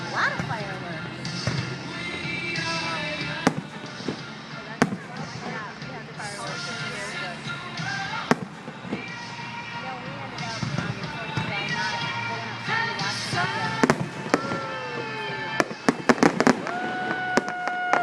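Fireworks burst over a baseball game, with many sharp bangs and crackles scattered throughout, some loud and near, over a steady crowd murmur and background noise.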